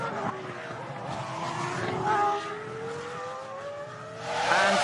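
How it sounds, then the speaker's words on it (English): A McLaren Mercedes Formula 1 car with electrical trouble and an engine that keeps cutting out rejoins the track. Its engine note rises and falls unevenly, with a louder surge near the end, under faint background noise. "his engine is still cutting out"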